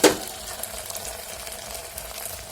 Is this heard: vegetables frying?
yes